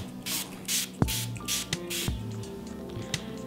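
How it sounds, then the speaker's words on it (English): Several short hissing bursts of face mist spray, close and fairly quiet, repeated in a loose rhythm with faint clicks between them. "What I'm gonna do is I'm gonna spray my face."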